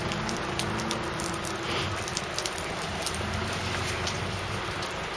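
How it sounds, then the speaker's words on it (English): Heavy rain pouring down in a Limerick city street, a steady dense hiss and patter on wet surfaces with water running through blocked drains, constant and fairly close, no talking. "Look at that for rain."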